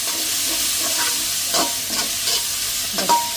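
Dried red chillies and onions frying in a pan, giving a loud continuous sizzle with several spoon scrapes and stirring strokes spread across it, close up and without speech.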